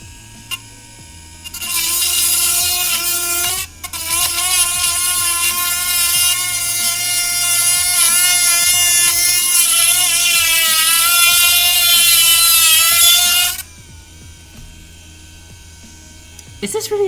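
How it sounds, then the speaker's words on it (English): A power drill bores out a bad rivet on a leather journal holster, a loud, high whirring whine running steadily for about twelve seconds after a short start, with a brief dip early on and a quiet room before and after. "we're gonna try and drill it out"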